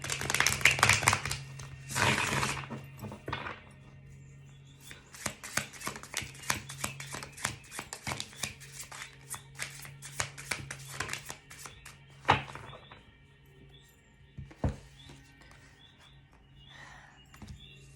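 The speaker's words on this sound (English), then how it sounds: "Just going to shuffle." Tarot cards being shuffled by hand in quick bursts of riffling and soft slaps, with a few sharper taps, close and fairly quiet, no talking.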